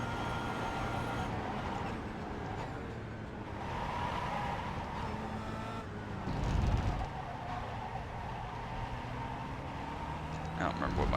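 A Kia Optima race car in the iRacing sim laps the Navarra circuit, its engine a continuous droning hum with shifting tones and brief rises as it pushes through the lap.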